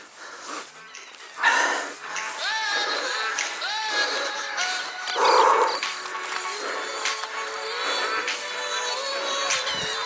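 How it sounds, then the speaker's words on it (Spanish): Several dogs bark, yip and whine in an outdoor setting, excited calls overlapping in bursts that swell as the animals come closer, with occasional voices mixed in. "Los perros vienen allá, weón."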